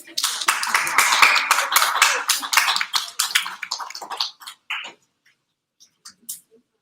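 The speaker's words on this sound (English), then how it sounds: "give you guys a round of applause. Go ahead and put your hands together." A small group claps enthusiastically for a few seconds, then the applause tapers off into scattered claps and silence.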